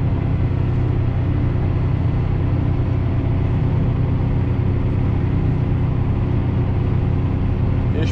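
A Valtra N155 tractor engine drives steadily while mowing, giving a loud, continuous low rumble close by with no real change in pitch and no talking.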